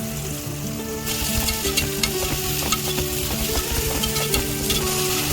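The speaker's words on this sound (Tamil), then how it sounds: "அதை போட்டுட்டு பட்டை ஏலக்காய் போட்டுட்டு வெங்காயம் போடுது." Onions with cinnamon and cardamom sauté loudly in a pan for a prawn masala. A strong steady sizzle runs under repeated scraping stirs, and there is no talk.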